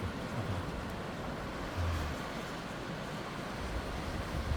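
Sea waves break against the Jeonchon breakwater at Gampo, a steady broad wash of surf mixed with wind rumble that holds constant and close throughout, with no voices.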